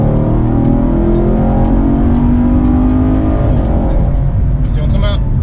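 A 2019 Chevrolet Camaro SS with an automatic transmission left to shift on its own roars loudly through a 60 mph roll-on in third gear at around 4,000 rpm, a steady, rising engine drone heard from inside the car.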